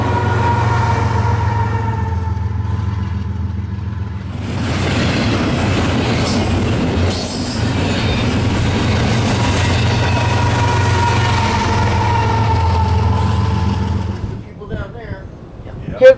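A freight train with a distributed power locomotive rolls past close by in Ohio, a loud continuous rumble with steady wheel and rail noise and humming diesel tones throughout, then easing off near the end.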